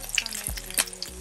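Eggplant frying in hot oil, a close steady sizzle with popping crackles and a brief clatter of stirring, no voices.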